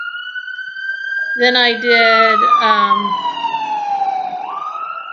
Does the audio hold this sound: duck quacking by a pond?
no